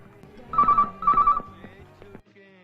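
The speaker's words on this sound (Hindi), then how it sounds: "गौतम, लगता है कोई हमसे मजाक कर रहा है, फोन मत उठाना।" Two loud electronic telephone rings in quick succession, each a trilling bell-like burst, followed by fainter clicks and a brief low tone as it stops.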